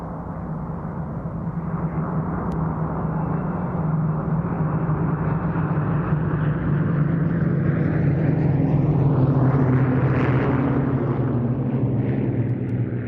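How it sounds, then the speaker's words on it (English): A WWII formation passes overhead: a B-17 bomber with three Mustangs, a P-40F and a Wildcat. The piston-engine drone builds to a loud, broad roar and then fades slightly as the aircraft pass. "There we see the B-17 with 3 Mustangs, the P-40F and the Wildcat, followed by the other heavies"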